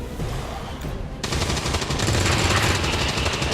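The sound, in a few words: gunfire shooting an enemy in XCOM video game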